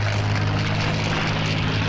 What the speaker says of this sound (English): The enemy planes should be now visible.